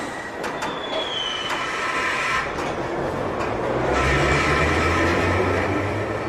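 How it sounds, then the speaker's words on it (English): A London Underground train pulls away during rush hour, its rumble building steadily while brief wheel squeals and a higher whine rise above the loud, continuous roar. "Stand clear of the doors. This train's ready to depart."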